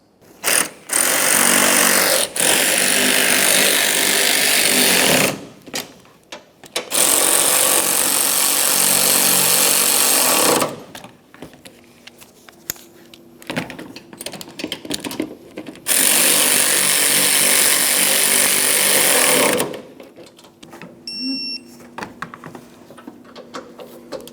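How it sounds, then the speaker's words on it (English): Power tool tightening strut mounting nuts on a 2006-2011 Honda Civic in the engine compartment, loud whirring bursts of several seconds each, separated by quieter pauses with small clicks. "You want to make sure you snug each one of these mounting nuts, then torque them to 33 foot-pounds."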